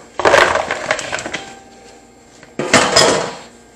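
Sliced cucumbers for bread and butter pickles tip from a colander into a bowl in two bursts of clattering and wet knocking, close and fairly loud, with a short pause between them.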